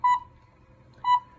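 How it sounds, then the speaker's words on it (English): Two short, clear electronic beeps from a light bulb security camera sound about a second apart in an otherwise quiet space. "I guess it's a camera beeping"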